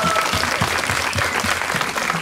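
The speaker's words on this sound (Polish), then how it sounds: "Takie krótkie, a ona się tu zejdzie zaraz, a wy będziecie takie krótkie brawa bili." Applause from a concert audience at a Balkan folk festival, steady dense clapping continuing throughout at close range with a faint voice underneath.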